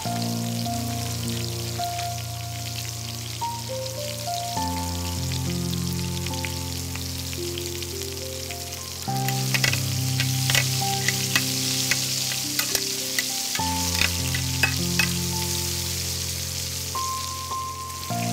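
Mushrooms fry in a pan of lamb fat and spices, a constant close sizzle with brief sharp crackles and occasional stirring clicks that grow busier midway, backed by steady music.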